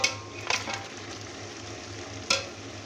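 Beef with garam masala and chilli being fried and mixed in a pot for biryani, a low steady sizzle under a few sharp scraping clatters of a spoon against the metal, near and alone.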